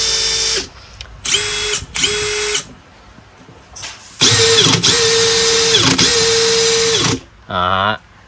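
Makita cordless impact drivers, the XDT16 and XDT19, run in loud close bursts of about a second each, with a high motor whine that starts and stops repeatedly and ends on a shorter, wavering spin.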